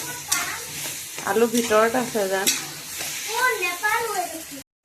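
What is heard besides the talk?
mango and jaggery frying in pan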